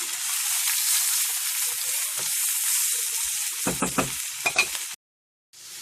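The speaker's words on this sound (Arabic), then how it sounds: "نخليوهم يتشحروا واحد شويه." Onion, pepper and garlic sauté in a pan with a steady close sizzle, broken by a few stirring scrapes before the sound cuts out abruptly.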